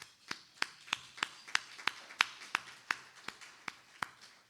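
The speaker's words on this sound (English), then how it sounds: "How about a big applause for that one?" Applause from an audience at a meeting arrives as evenly spaced, crisp single claps about three per second, fairly quiet, in a steady pulse against a faint room hush.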